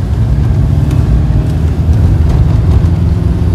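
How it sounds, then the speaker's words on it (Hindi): A safari vehicle drives past on an off-road jungle track near Kanha and Bandhavgarh, its engine a loud, steady rumble that stays close throughout. "भाई सफारी गाड़ी जा रही है"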